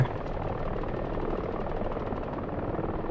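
Steady, loud helicopter rotor drone with a thumping chop in the DCS flight simulator game, constant throughout and filling the whole clip, no voices.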